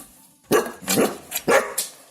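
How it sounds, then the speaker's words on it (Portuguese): A dog barks three times in sharp, close, loud bursts spaced about half a second apart, with no voices around it. "esse cão podcaster que late para vocês"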